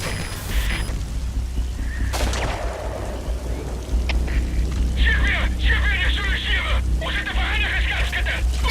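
Gunfire and explosions in Metal Gear Solid 5: The Phantom Pain, a deep booming rumble under busy battle noise with scattered crackling bursts and chirping effects, fairly loud throughout.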